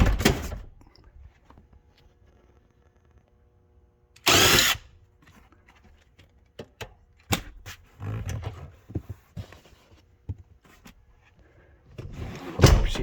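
Seat bolts on a 2005-2009 Ford Mustang being loosened with a 15 socket: a loud, short mechanical burst, then scattered clicks, knocks and ratcheting clunks, ending with another rough burst, close and with no talking.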